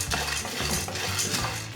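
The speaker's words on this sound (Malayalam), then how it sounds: "ഈ കപ്പലണ്ടി ഈ പാനിലേക്ക് ഇട്ടൊന്ന് വറുത്ത് കൊടുക്കും." Shelled peanuts tipped into a heating pan for roasting to make peanut candy: a close, busy clatter of many small nuts rattling and skittering against the metal pan.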